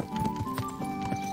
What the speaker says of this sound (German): Und bitte schneller, mein Pferd.